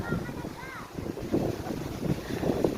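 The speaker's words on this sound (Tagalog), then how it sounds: "Ang lakas ng hangin." Strong wind buffets the microphone in rough, uneven gusts, with faint voices nearby, on high ground beside a cottage in Bahrain.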